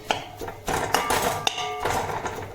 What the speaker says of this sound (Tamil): கொத்து பரோட்டா மாதிரி கொத்துறேன்.